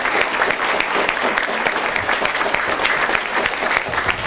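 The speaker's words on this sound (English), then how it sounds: "Can we give them all one more big round of applause" A dense, loud round of audience applause at a DARE program event, steady clapping from a full room throughout with no pauses.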